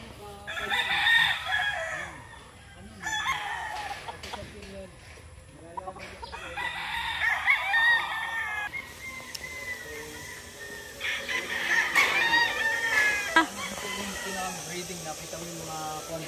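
Chickens cluck and roosters crow in repeated bursts nearby on a farm in Carigara while people talk intermittently over the flock.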